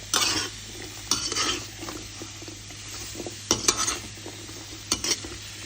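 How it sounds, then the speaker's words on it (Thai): Ingredients for galangal chili paste are stirred and dry-roasted in a pan over low heat, with repeated scraping strokes and soft crackles, close and without talk. "คั่ว ใช้ไฟอ่อนนะคะ ค่อยๆคั่วไปเรื่อย ๆ"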